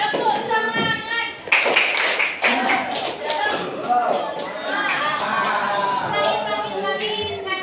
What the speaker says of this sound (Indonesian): Sekarang satu kali lagi biar lebih semangat. Ayo, tepuk semangat.